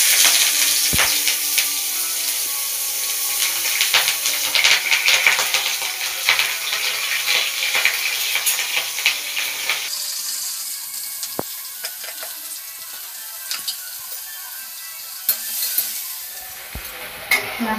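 Onions frying in a pan for a desi chicken curry, a steady close sizzle with scattered crackles and stirring scrapes, the hiss easing and growing quieter halfway through.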